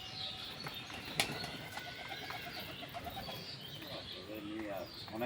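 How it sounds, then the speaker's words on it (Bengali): Pigeons flutter down one by one to feed and coo in soft repeated notes, with wingbeats and scattered chirps close by and a voice faintly in the background. "পায়রাগুলোকে ডাকার মাত্রই কিন্তু নেমে আসছে এক এক করে"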